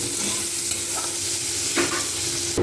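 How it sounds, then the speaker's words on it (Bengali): Potatoes seasoned with salt and turmeric fry in hot oil with a steady, close sizzle, broken by a few scraping stirs of a utensil in the pan. There is no talking. "তো এখানে আলুগুলোকে ভালো করে ভেজে নেব, লবণ হলুদ দেওয়া আছে।"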